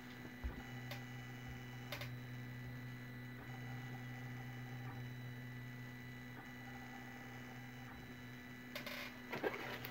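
A Prusa 3D printer prints a spiral vase in green PLA filament, giving a quiet, steady mechanical hum with faint stepper whine and occasional soft ticks and clicks.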